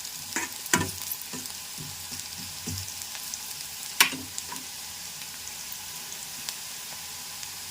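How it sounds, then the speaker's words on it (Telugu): Amaranth stems frying in hot oil with a steady close sizzle, broken by sharper clicks and scrapes as they are stirred in the pan. "ఇదిగోండి చక్కగా ఆయిల్లో చక్కగా వేగిపోయినాయి కదా"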